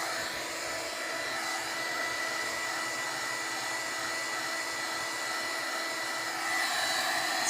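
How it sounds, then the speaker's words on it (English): A heat gun blows steadily close by, drying glue laid down for foil on journal cards, a continuous airy roar with a slight rise in loudness near the end. "I am using my heat gun to dry this this glue"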